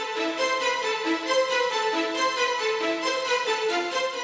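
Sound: orchestral staccato string melody doubled in violins an octave lower

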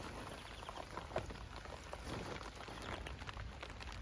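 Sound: rain falling

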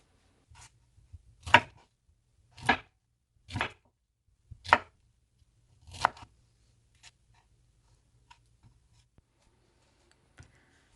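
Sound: knife slicing pineapple into flat pieces

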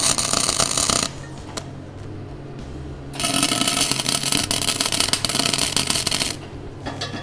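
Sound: welding tack welds on a steel Thor's hammer

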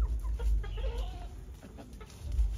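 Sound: chickens clucking

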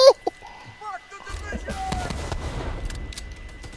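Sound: grenade explosion and gunfire in video game The Division 2

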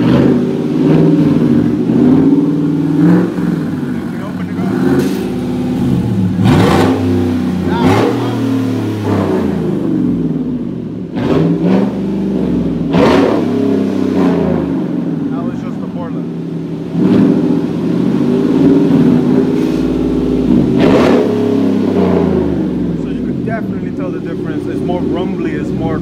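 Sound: Borla exhaust with electric cutout open on Chevrolet Silverado, revving

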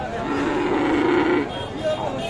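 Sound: cross Friesian bull calf mooing

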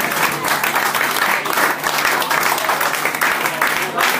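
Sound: audience applause

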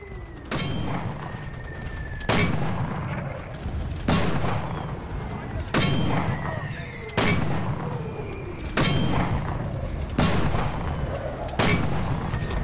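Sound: artillery fire in the video game Enlisted

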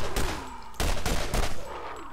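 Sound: pistol gunshots in the video game Borderlands

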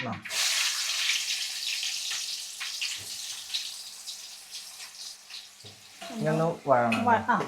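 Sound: chicken masala and turmeric frying while stirred

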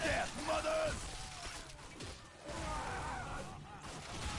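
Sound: gunfire in the video game Bulletstorm

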